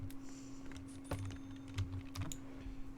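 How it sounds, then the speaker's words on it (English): Sharp computer mouse clicks come from across a desk, scattered and irregular at a low level over a constant electrical hum and fan noise. "You could probably hear the mouse clicks,"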